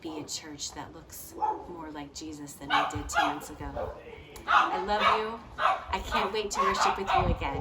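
Neighborhood dogs bark and yip intermittently in the background, partly masked by someone speaking steadily over them.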